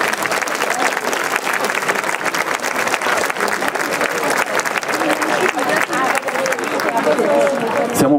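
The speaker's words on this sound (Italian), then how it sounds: "L'applauso, e mi raggiungono subito qua sul palco, per il gruppo Folk Brazzallos di Fonni." Audience at an international folklore festival in Fonni, Sardinia, applauding a folk group onto the stage, loud sustained clapping from a large crowd that continues steadily, with speech mixed in.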